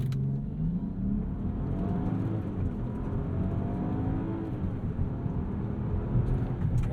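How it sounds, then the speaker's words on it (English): 2021 Land Rover Discovery launching hard in sport mode: engine rising steadily in pitch as it accelerates, a continuous loud drone from inside the cabin with road and wind noise, no talking. "let's actually go into sport mode and do a little bit of a launch"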